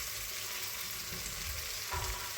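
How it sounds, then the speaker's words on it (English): Turkey pieces frying in butter with garlic sizzle steadily in a pan, a dense crackling hiss with occasional stirring bumps, close and continuous. "And now my turkey's going in."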